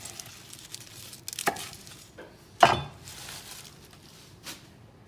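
A knife chops through the end of a bok choy on a cutting board, a few quiet, crisp cuts with one sharper thwack standing out against a hushed kitchen background.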